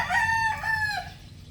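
A single rooster crow from a gamefowl of Gull, Butcher or Lemon strain kept with hens, rising and then holding a drawn-out call for about a second, close and clear with no other sound.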